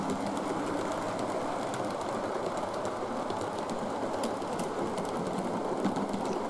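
A heavy kit-built model train of fourteen cars, hauled by a DJH A1 locomotive, rumbles continuously along a model railway layout, a steady close rolling clatter with faint ticking, no talk.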